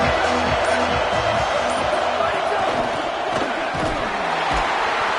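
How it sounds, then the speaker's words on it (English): Football stadium crowd roaring and cheering continuously throughout, a dense wash of many voices at steady high loudness, with a play-by-play commentator's voice mixed in. "This crowd ready to make its presence known."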